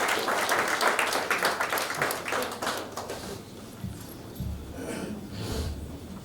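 Audience applause after an inaugural university lecture, with brisk, dense clapping for about three seconds before dropping to scattered faint noises and breathing close to the microphone.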